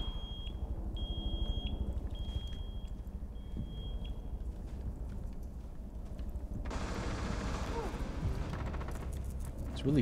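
Repeated electronic alarm beeps in Rainbow Six Siege, a steady high chirp pulsing through the first few seconds over dense game noise, followed by a louder burst of hissing action sound; talking runs underneath.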